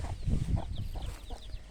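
Free-range desi chickens cluck in short repeated bursts nearby in a village poultry compound, with low rustling and faint bird chirps in the background.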